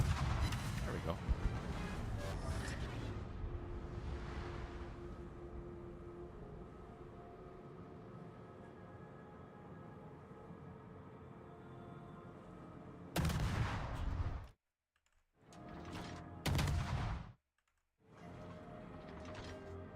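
World of Warships naval guns fire in loud heavy booming salvos, with dense rumbling bursts early on and several sharp blasts later, broken by sudden silences, with talk mixed in.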